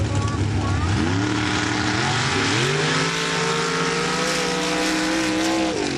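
Pro Stock mud trucks racing at a mud drag event in Laporte, Indiana: loud, sustained engines that roar and climb in pitch as the trucks launch down the lanes.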